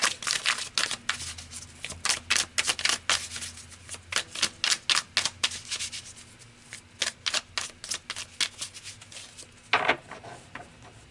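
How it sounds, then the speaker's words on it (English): Tarot cards being shuffled in a long run of quick, crisp riffling bursts, some clustered and some spaced out, fairly close and clear, with a sharper flurry near the end. "let's pull some cards"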